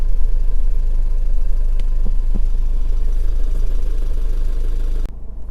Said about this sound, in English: So sat inside the car now, engine's running as it has been all the way through the video.